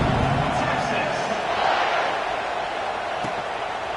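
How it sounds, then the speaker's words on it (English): A football stadium crowd at a Texas vs Ohio State game keeps up a broad, steady roar, with a commentator talking over it. "this crowd is feeling themselves after that last drive"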